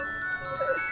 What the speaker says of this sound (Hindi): आ रही, फोन की आवाज आ रही है,